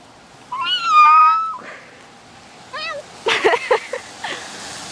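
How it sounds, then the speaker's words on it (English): A cat meows outside in the rain, giving a drawn-out meow and then a shorter one, while a person talks nearby over a faint wash of rain. "What, kitty cat don't like the weather?"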